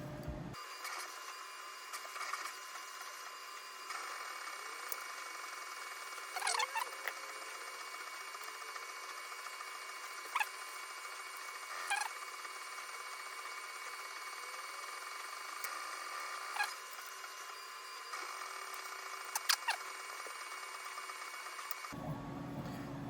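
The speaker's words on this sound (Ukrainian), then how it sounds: "то на фоні чутно, як принтер там щось" A printer runs steadily in the background with a constant mechanical whir, punctuated by occasional clicks and clunks of its moving parts.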